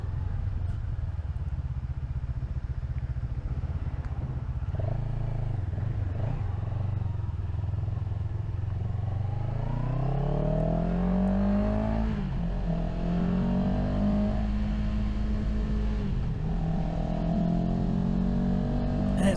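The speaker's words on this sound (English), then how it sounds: "This bike stock sounds good." A CFMOTO motorcycle with its stock exhaust is ridden on the road, the engine droning steadily and then revving up through rising and falling pitch sweeps as it accelerates and shifts, with wind noise around it.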